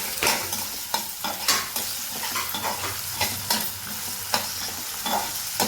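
Tomatoes and cashews frying in a pan for poha, with a steady close sizzle broken by repeated scrapes and knocks of a spoon stirring against the pan, no voices.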